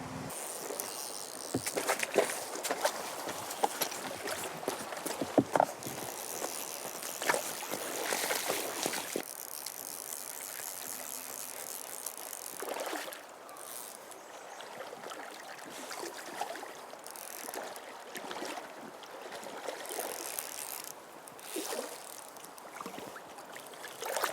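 Water splashes and swishes steadily around a boat moving downstream on the Restigouche River while salmon fishing, with insects chirping faintly in the background outdoors.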